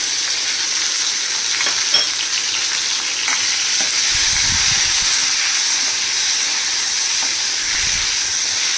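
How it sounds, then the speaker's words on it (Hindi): Tomatoes and salt tip into a hot pan over low-to-medium flame, setting off a steady, loud sizzle and hiss that runs continuously, with a few faint stirring bumps underneath. "अब देखिए इसमें हम टमाटर डाल देंगे और इसके साथ ही हम इसमें नमक भी डाल देंगे"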